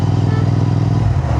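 A GT motorcycle engine hums steadily and loudly while riding, with a continuous low throaty drone and wind rush throughout, close to the rider.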